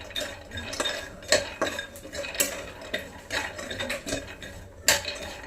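Almonds and pistachios being dry-roasted in a pan while a spoon stirs them, giving steady scraping and clinking with rattling nuts and a few sharper metallic knocks.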